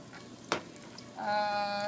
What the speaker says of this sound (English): it should sizzle when I put the stuff on it